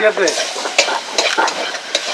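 Crabs sizzle and crackle in hot oil, with a spatula stirring and scraping the pan in short bursts, close up.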